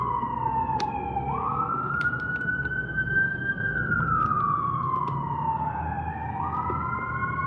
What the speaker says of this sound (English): I don't know why there's always so many sirens every time I'm on a video.